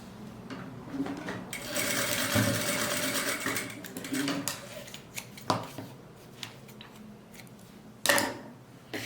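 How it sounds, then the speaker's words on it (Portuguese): A sewing machine runs a straight seam on a fabric Bible or book cover, its fast mechanical whirr rising and pausing in several short bursts, with soft ticks and a few sharp clicks between runs; no one speaks. "Agora eu costuro aqui do outro lado também, tá?"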